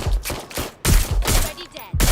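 Shotgun blasts from a weapon fired in the Watch Dogs: Legion video game, three loud, booming reports spaced unevenly over about two seconds, each with a sharp attack and ringing decay.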